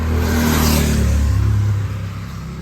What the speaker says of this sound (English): cars are just flying on here. And they got these big motorcycles